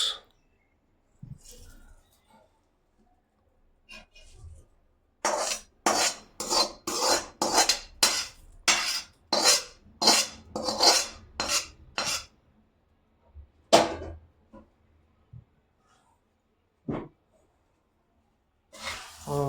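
Chivda snack being tossed in a pan, with a fast run of rhythmic scraping and rattling strokes in the middle and a few isolated clinks before and after, separated by quiet gaps.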